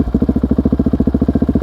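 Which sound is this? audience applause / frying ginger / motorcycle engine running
motorcycle engine running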